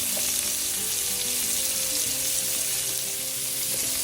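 Large shrimp cooking in a hot pan for creamy shrimp Alfredo pasta, giving a constant close sizzle with a faint background tone and no voices.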